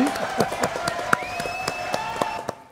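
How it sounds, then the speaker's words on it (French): A handful of people clap in a TV studio for a guest, with distinct separate claps at a moderate level while a voice and a sustained tone run beneath. "applaudissements pour Patsy P"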